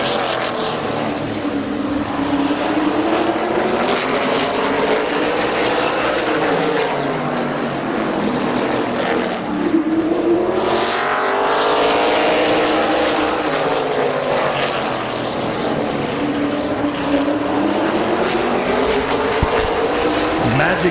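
Race cars roar around Midvale Speedway, a loud continuous engine drone with rising and falling pitch as the pack passes by, carrying on for the whole stretch.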